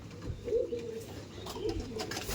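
Male pigeons in the next room of an Andhra pigeon loft give low, rolling coos in two or three swells, with a faint murmur of other birds behind.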